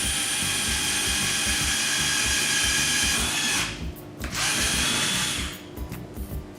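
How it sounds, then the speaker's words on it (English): A power drill boring through a cake board, running loud and steady with a high whine for several seconds, briefly cutting out, then restarting before winding down in a few uneven bursts. "Line the drill up and just drill through."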